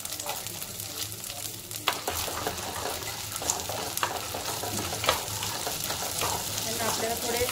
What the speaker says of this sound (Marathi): आधी आपल्याला हे दाणे तेलात भाजून घ्यायचे